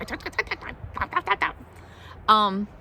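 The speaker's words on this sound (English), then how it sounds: "My little crow is still talking to us. I hope you can hear him." A pet crow gives a single harsh, nasal call near the end, loud and close, following a stretch of a woman's speech.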